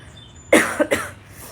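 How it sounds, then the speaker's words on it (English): A single harsh cough followed by a shorter second cough, close and loud against a quiet background. "It hurts to cough."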